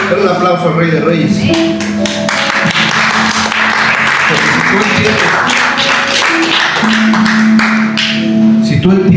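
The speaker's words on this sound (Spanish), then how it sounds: "Dale un aplauso al Rey de Reyes." Church congregation applauding the King of Kings, steady dense clapping for several seconds over sustained music, with voices mixed in and a loud, full sound throughout.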